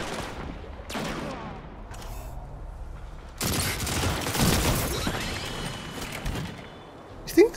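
Wastelander M5 shotgun firing in Destiny 2: several loud, sharp blasts spaced irregularly, with a final crack at the end and no talking.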